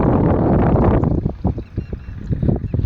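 Strong gusts of wind buffet the microphone in a rough, low rumble that eases into fluttering bursts partway through.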